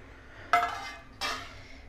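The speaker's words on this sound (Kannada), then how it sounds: "ಮೊದಲಿಗೆ ಅನ್ನಕ್ಕೆ ಈರುಳ್ಳಿ ಎಲ್ಲನೂ ಹಾಕಿ ಒಳ್ಳೆ ಒಂದು ಮಿಕ್ಸ್ ಕೊಡಿ." A spoon clinks twice against a bowl while leftover rice is mixed with onion, two light metallic taps close by in an otherwise quiet kitchen.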